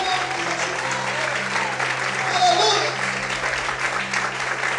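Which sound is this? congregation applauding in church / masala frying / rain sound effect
congregation applauding in church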